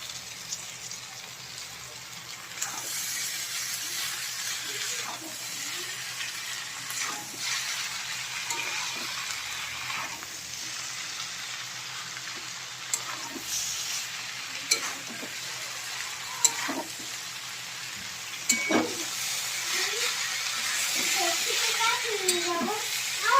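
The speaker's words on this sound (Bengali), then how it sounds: "এবার চাউমিন দিয়ে দিচ্ছি। চাউমিনটাকে একটু ছাড়িয়ে দিই।" Chow mein noodles fry in a hot pan with a steady, close sizzle, broken by scraping stirs and occasional knocks of a utensil throughout.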